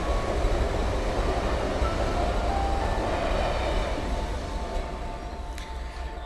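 Trains passing nearby, a steady loud rumble with rail noise that holds for most of the clip and then eases slightly toward the end, with faint squeal-like tones high up.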